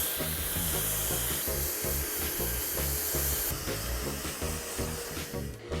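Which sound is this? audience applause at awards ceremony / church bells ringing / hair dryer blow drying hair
hair dryer blow drying hair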